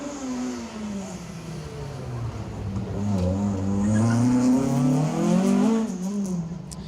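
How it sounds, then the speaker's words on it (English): A historic spec Peugeot 306 S16 rally car races along an asphalt stage, its engine revving and climbing through the gears in a loud, rising drone that passes close by. "Marshall Kennedy, Davey Young in the, believe it or not, historic spec Peugeot 306 S16"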